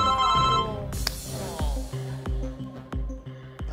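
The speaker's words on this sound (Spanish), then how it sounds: "¡Ay, teléfono!" A game-show telephone rings in a series of bright, repeating electronic tones, each ring dropping sharply, heard clearly over a studio setting.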